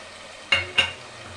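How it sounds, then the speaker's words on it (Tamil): Yogurt stirred into sautéed tomatoes cooked down in oil for egg biryani, two short scraping strokes of a spoon against the pan over a faint background sizzle. "தயிர் சேர்த்து நல்லா கலந்து விட்டுக்கலாம்"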